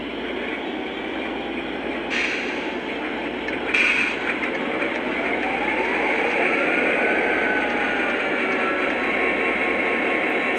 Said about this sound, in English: if I fire up this 35 over here, it's actually going to sound accurate